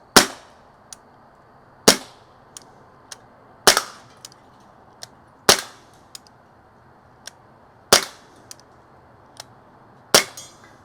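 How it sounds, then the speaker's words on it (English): A pellet pistol with a rifled barrel fires six sharp, loud cracks at roughly even intervals of about two seconds, close up, each followed by a faint mechanical click in an otherwise quiet room. "it is a pellet pistol with a rifled barrel, so. It's got some power, too"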